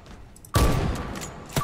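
A Bushmaster rifle fired from the hip in a video game: one loud, close gunshot with a ringing tail, followed by a second shot just before the end.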